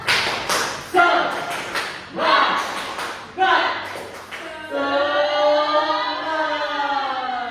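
A classroom of students repeats the 'tepuk semangat' clapping routine, clear rhythmic bursts of group hand claps in a set pattern, followed by a long chorus of voices chanting together.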